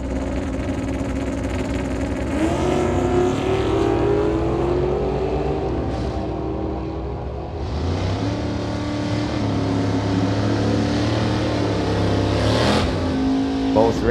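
Drag-strip run between a 1965 Chevy Nova Wagon and a 1989 Mustang with a 408 stroker small-block Ford: loud engines rev and roar, rising and falling through gear changes, under a track announcer's voice.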